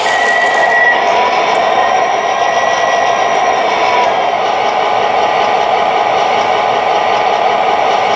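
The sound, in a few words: model train locomotive engine running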